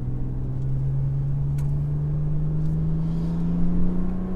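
A BMW 1M is driven on German roads, its engine giving a steady, loud drone that rises slowly in pitch as it pulls along, with no talk over it.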